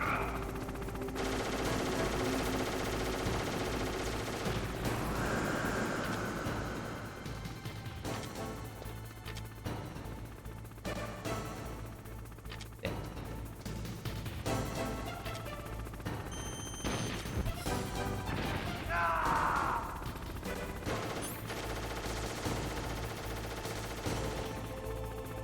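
Gunfire in the stealth-action game Metal Gear Solid, with bursts and single shots mixed into dense game music and effects that run throughout the scene.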